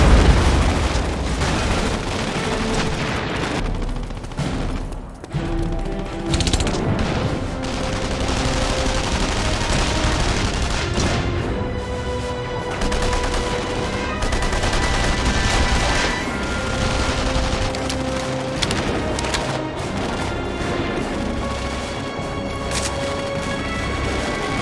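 Heavy gunfire in The Saboteur, a WWII-era game, with sniper and rapid shots cracking over booming explosions and a dense, loud battle din that runs throughout with no speech.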